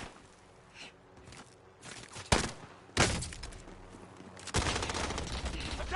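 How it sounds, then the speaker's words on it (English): Video game gunfire in a PS4 shooter: bursts of rapid automatic fire and sharp single shots crack over constant battlefield noise, with a couple of loud close blasts, while faint game voices and footsteps sit in the background. "They're taking fire."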